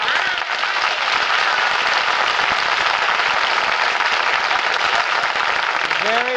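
Audience applause on a radio comedy and variety show, a steady dense wash of clapping that stays loud through the whole stretch, with a brief musical tone entering at the very end.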